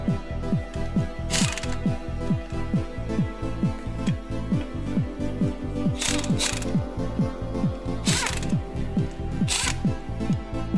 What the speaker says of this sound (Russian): Прикручиваем на место колеса